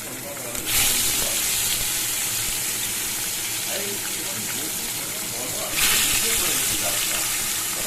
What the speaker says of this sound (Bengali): তেলাপিয়া মাছটা ভাজা করে নিই আগে।